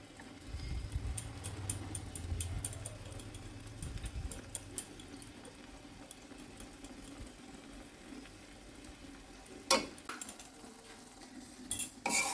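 Palak paneer being mixed with a spoon in a pan, giving faint scraping and clinks of metal on cookware over a low sizzle, with a few sharper clinks near the end.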